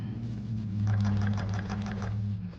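A sewing machine stitches a lightweight silk fabric panel, running in a short, steady, close-up burst with a fast rhythmic needle chatter over a motor hum, with no talk.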